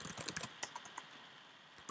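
Fingers tap a computer keyboard in a quick, uneven run of faint clicking keystrokes, denser at first and then sparser, with no voices.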